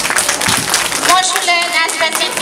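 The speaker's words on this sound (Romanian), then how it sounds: "Aplauze, vă rog!" Audience clapping at a village Christmas event with Santa Claus in Stoina, a dense rush of claps under a speaking voice that carries over the top.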